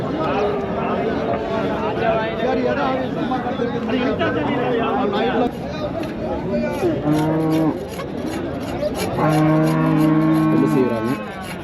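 Cattle low repeatedly, with several long, loud moos standing out amid the busy Anthiyur cattle market, where people chatter continuously in the background.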